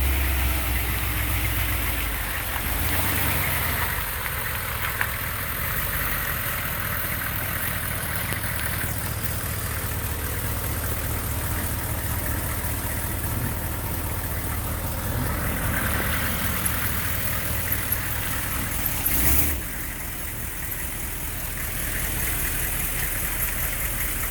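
A vehicle engine idles steadily with a low continuous rumble while maneuvering in a driveway, the hum constant and moderately loud throughout with little change.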